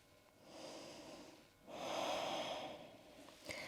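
Two slow, deep breaths during a yoga session. A shorter inhale is followed by a fuller, louder exhale, both airy and close to the microphone, with no talking.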